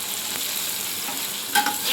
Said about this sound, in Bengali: আমরা এখানে কিছু মাশরুম তেলে ভাজা করতে নিয়েছি